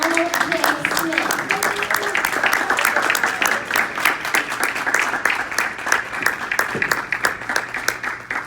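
Audience applause for public speaking champion Ramona Smith, a dense continuous patter of many hands clapping throughout, with a voice speaking over the start and cheers mixed in.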